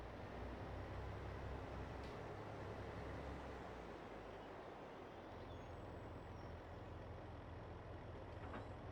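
Tractor towing a trailer while parking in Farming Simulator 22, ahead of a sunflower harvest: a steady, loud low engine rumble throughout, with a faint brief hiss near the start and near the end.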